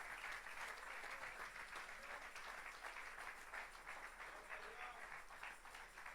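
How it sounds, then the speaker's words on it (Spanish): Congregation at a church sermon applauding steadily, a dense wash of many hands clapping at a fairly faint, even level throughout. "Le damos un fuerte aplauso al que vive."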